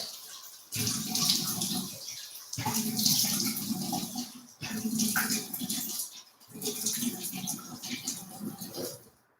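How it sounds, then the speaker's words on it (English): A bathroom sink tap runs in steady bursts while someone splashes water onto their face, pausing briefly between rinses; the flow is close and fairly loud, with no talking over it. "Okay, so now I apply the cleanser on my face and I'm gonna wash it real quick."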